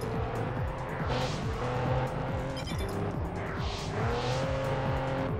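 Several Pagani Zonda race cars roar and rev together on a steep downhill track in the PS2 racing game Test Drive Unlimited, with loud continuous engine drone, shifting pitch and faint tire squeal.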